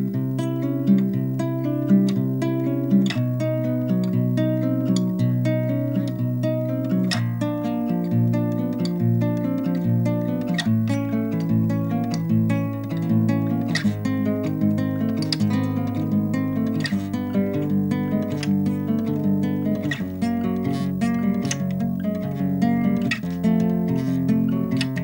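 A guitar warm-up finger exercise played as a steady stream of plucked notes using ring, middle and index fingers, with sustained ringing tones, close and clear with no talking.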